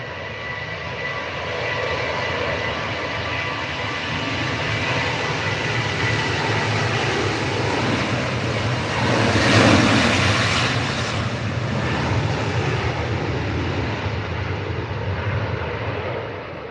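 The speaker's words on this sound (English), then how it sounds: "So this one is a TUI, Boeing 737 8K5 off to Antalya, flight number Tom 512." A TUI Boeing 737-8K5 takes off from Manchester Airport, its jet roar building steadily to a loud peak and then tapering off as it climbs away, with no voices.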